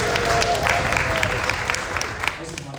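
An audience in Grizzly Hall at Magic Kingdom claps and stomps at a fan event, a dense steady burst of applause with scattered sharper claps, fairly close and loud, thinning slightly toward the end.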